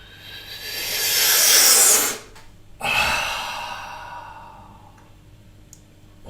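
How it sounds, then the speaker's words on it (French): Two deep breaths in a spiral breathing exercise: a long, airy inhalation swelling gradually then stopping, followed by a second breath that starts strongly and tapers off, close and hissing with no speech. "la spirale consiste en fait à augmenter progressivement, graduellement, l'inspiration et la vitesse d'inspiration."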